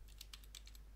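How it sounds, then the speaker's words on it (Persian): Keystrokes on a computer keyboard, with about seven quick, evenly spaced taps over roughly a second, fairly faint and heard alone against a low hum. "حالا اگر من هر چیز دیگه رو تایپ بکنم"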